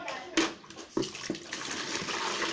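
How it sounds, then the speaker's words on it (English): Tap water runs and splashes into a container being filled for a laundry-soap lye solution, with a few sharp knocks near the start and a steady pour continuing to the end. "After mixing it, first of all, you need to add water."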